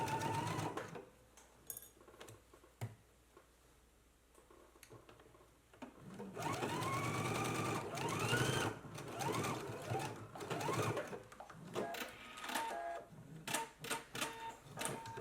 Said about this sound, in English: now we can go ahead and stitch using a 5/8 inch seam allowance.